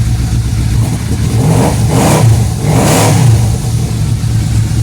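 A Yamaha Royal Star motorcycle exhaust idles with a deep, rumbly burble, then revs up twice in quick swells before settling back to a steady idle.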